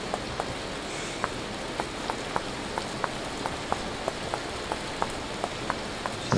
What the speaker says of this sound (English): this rain needs to go away